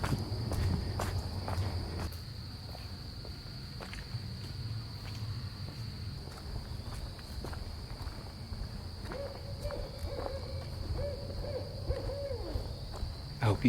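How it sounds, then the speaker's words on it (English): An owl hoots in a short series from a distance, with a steady insect drone and footsteps crunching along a trail. "I hope you can hear that owl."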